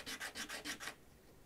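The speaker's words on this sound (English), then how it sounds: "you've sanded off the entire copper surface of the penny" Sandpaper rubs the copper surface off a post-1982 penny in five quick, even back-and-forth strokes that stop abruptly; the sound is close but faint.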